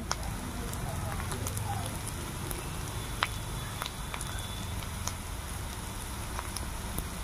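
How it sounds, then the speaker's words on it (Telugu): Onions fry in a pan with ginger and shallot paste while a dried fish curry is cooked, making a steady close crackling sizzle with scattered pops throughout. "ఉల్లిపాయ బ్రౌన్ కలర్ వచ్చే వరకు వేసుకుందాం."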